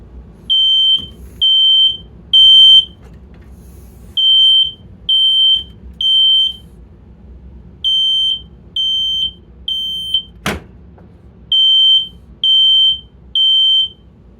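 Master Guard smoke detector alarm under test, blaring loud, piercing high beeps in groups of three with short pauses between, repeating over and over, with a single sharp knock partway through.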